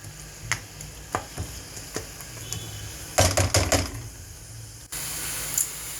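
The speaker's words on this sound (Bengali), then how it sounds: "এখানে পেঁয়াজ আর রসুন একটু ভাজি করব হালকা।" Onion and garlic go into a pan to fry lightly: a few utensil taps and a brief rattle, then a steady, close sizzle takes over.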